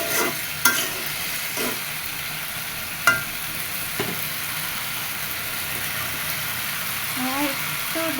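Cooking with a constant sizzle as a spice paste, loosened with a little water, is sautéed and stirred, punctuated by a few clicks of a utensil against the pan.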